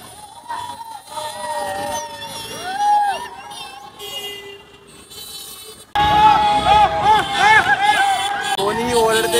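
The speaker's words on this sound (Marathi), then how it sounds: "कोणीही ओरडते, कोणीही बोलते." A crowded street celebrating a World Cup win, with shouting, horns and siren-like wails rising and falling, the noise getting suddenly louder and denser halfway through.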